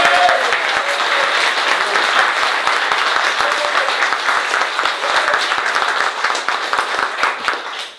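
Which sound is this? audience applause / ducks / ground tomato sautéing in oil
audience applause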